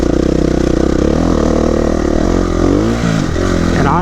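A KTM 350 EXC-F four-stroke dirt bike engine revs loud and close, a steady buzzing drone that climbs in pitch near the end, with no voices.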